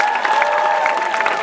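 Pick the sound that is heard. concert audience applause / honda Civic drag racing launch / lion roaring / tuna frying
concert audience applause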